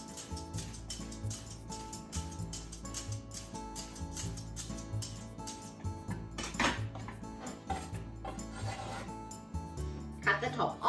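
A peeler scrapes the skin off a carrot in quick, repeated rasping strokes close by, with light clinks of kitchenware and a few louder scrapes near the end, over faint background sound.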